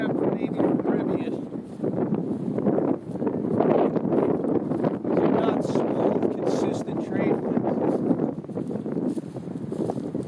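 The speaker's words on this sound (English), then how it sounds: "The wind's been gusty, as it always is in the northeast." Gusty northeast wind at a stunt kite flying field, a steady rough rush of wind buffeting the microphone throughout, with a person talking over it.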